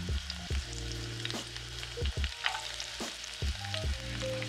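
Chopped garlic frying in a hot pan, a steady sizzle broken by several scraping stirs and clatters of the utensil, close and moderately loud, with no talking.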